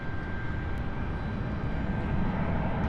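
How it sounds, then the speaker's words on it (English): A Swiss Airbus A220 airliner gives a steady, loud engine roar at London City airport, a continuous broadband rumble with a thin whining tone on top. "We've got our Swiss A220 with distinctive Wookiee noises here."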